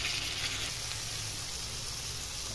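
Tomato pieces sizzle in a hot pan for gongura prawn curry, a steady broad hiss that is loudest at first and then settles, heard alone without talk.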